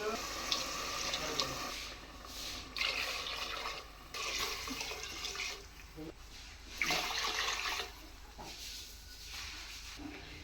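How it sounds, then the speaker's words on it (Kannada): Five glasses of water poured into a pot of rice for egg biryani, coming in several rushing bursts with short pauses between, close by and fairly quiet, with voices talking in between. "ಇಲ್ಲಿ 5 ಗ್ಲಾಸ್ ನೀರನ್ನ ಹಾಕ್ತೀನಿ"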